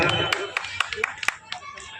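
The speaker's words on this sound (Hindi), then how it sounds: "सभी जोरदार ताली बजाकर" A handful of scattered, sharp hand claps ring out unevenly at a Buddha Jayanti gathering of the Bahujan Samaj Party and Bharatiya Bauddh Mahasabha in Ghaziabad, with voices and background chatter running beneath them.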